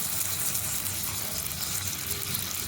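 A paste of cumin, turmeric and chili powder with ground coriander sautés in a pan, giving a steady, close, moderately loud sizzle with no pauses.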